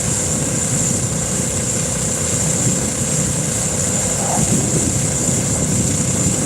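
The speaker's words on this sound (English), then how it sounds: "You see the jet flying out there." A steady, distant roar of a jet engine hangs over the scene near China Lake Naval Weapons Base, continuous and even throughout, with no talking.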